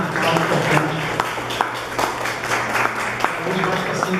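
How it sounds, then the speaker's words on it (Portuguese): An audience at an academic debate applauds, a dense run of hand claps at moderate loudness that carries on throughout with murmuring voices underneath. "por favor, uma salva de palmas para essa nota"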